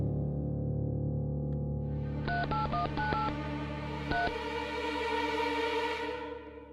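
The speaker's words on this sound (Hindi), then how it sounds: "उन्हें फोन लगाना चाहूंगा इलाहाबाद।" A telephone keypad dials a call to Allahabad, a quick run of electronic DTMF tones in a short burst followed by one more tone, over a low steady background hum.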